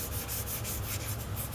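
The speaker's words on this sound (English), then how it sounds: "sanding" Steady, faint rubbing of sandpaper over the primed bodywork of a 1973 Dodge Charger Rallye 440 Magnum, knocking off guide coat in an even, continuous scratch with slight rhythmic strokes.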